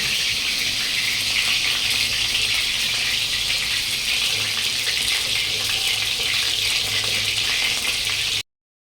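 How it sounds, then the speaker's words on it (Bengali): Fish frying gently over low heat in a pan, a steady close hiss and crackle of oil that runs unbroken and fairly loud before cutting off near the end. "ফ্রাই হোক আস্তে আস্তে করে, আস্তে একটু স্লো করে দিই।"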